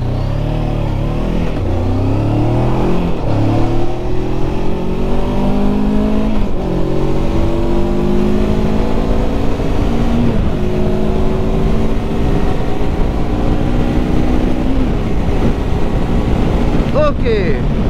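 Voge 525 DSX trail motorcycle launching hard from a standstill, its engine note climbing through several gear changes under heavy wind roar, loud and close throughout.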